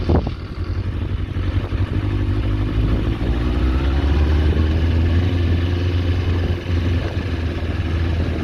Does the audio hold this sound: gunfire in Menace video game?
no